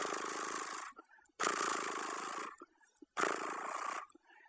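A recorded cat purr played back on a Mac computer, heard as three long, raspy, rumbling bursts separated by short gaps, fairly close and steady within each burst.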